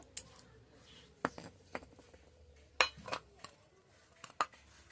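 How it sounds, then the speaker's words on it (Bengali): Mango ground by hand on a Bengali stone slab (shil-nora), heard as sparse, sharp clacks and scrapes of stone on stone at irregular intervals against a quiet background. "আমি শিলনোড়ায় বাটছি"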